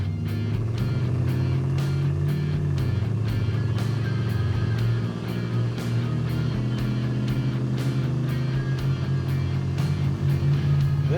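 A dirty, worn Toyota beater car pulls away down the road on a winter road trip, a steady low engine drone with tire and road noise rising and settling at close range.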